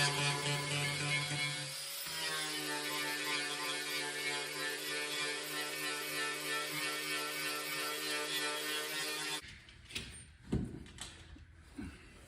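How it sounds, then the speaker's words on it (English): A dent puller draws a creased, thin-metal dent out of a rusty 1984 Nissan 4WD truck bed, giving a long steady mechanical ratcheting drone that cuts off and gives way to a few sharp metallic clicks and knocks. "So I'm just gonna pull it out with the dent puller."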